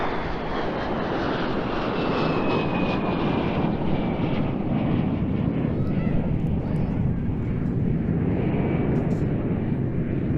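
A de Havilland Vampire FB.52 jet, the export Mark VI with a de Havilland Goblin engine, flying a display at Eastbourne International Airshow 2025: a loud, continuous roaring jet rush with a shifting whine as it passes, buffeted by wind.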